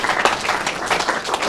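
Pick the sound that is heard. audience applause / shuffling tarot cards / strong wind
audience applause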